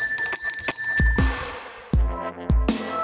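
A bell at the entrance door of an ecological wooden designer house rings with several bright metallic dings, each strike sharp and ringing out briefly in an uneven sequence, close and alone without talk.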